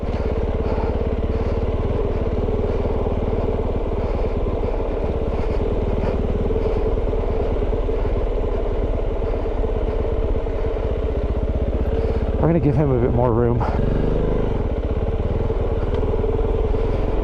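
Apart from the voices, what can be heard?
Kove 450 Rally motorcycle engine braking on jeep trail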